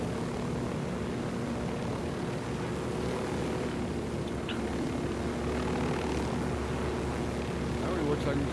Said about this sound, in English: They're little single-engine planes are just...